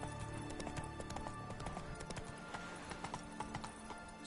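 Horse hooves clip-clop in a steady running rhythm through The Witcher 3 game world, close and continuous over a bed of ambient game sound, with a faint whinny at times.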